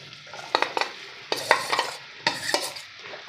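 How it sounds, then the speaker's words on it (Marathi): Okra frying in a few spoonfuls of oil in a pan, a steady sizzle broken by several sharp scraping stirs in irregular bursts, close and fairly loud with no talking. "आता इथे मी पॅनमध्ये चार चमचे तेल घालणार आहे आणि आपल्याला भेंडी परतून घ्यायची आहे"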